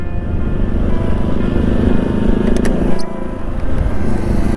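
Motorcycle carrying two riders at high speed, a loud steady engine roar with rushing wind noise, held constant throughout and close up.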